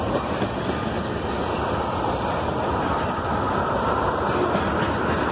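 A KCSM freight train led by a pair of GE Evolution-series locomotives rolls past with a tank car and boxcars, a steady, loud, continuous rumble and rattle of wagons on rails with no pause across the clip.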